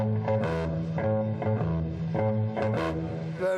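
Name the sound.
typical bass guitar tone for comparison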